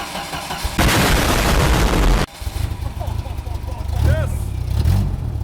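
A Jeep Comanche engine cranks and catches with a loud, broadband burst, then settles into a low, uneven rumbling idle close by, with people talking over it.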